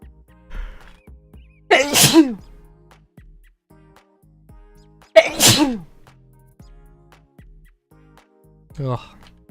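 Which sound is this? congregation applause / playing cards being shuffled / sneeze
sneeze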